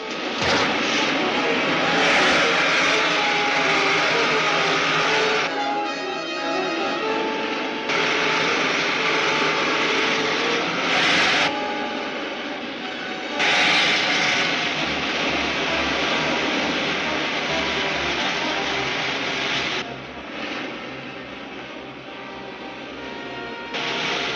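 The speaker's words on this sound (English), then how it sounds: "Fire pilot jets. Fire main jets." A rocket ship's pilot and main jets fire in a 1952 film serial, a loud continuous roaring rush that surges and shifts in layers across the whole stretch, with no voices heard.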